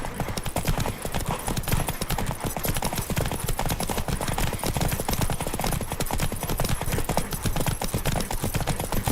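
Rapid, steady galloping hoofbeats of a horse in The Witcher 3 during a race, loud and close throughout, with a faint voice and game sounds underneath.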